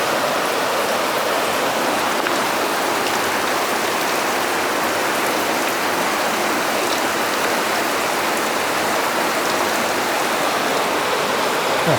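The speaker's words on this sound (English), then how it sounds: "of the rapids down there." Rapids on the Duck River heard from a hiking trail, a dense, steady rushing roar of moving water with no break, fairly loud and broad, with no voices.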